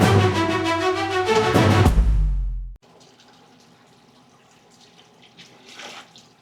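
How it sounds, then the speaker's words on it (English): Water siphoned through a hose from a 125 gallon tank into a 20 gallon aquarium, a loud gushing pour that cuts off abruptly, leaving faint trickles and small splashes. "We just siphoned some water out using the hose."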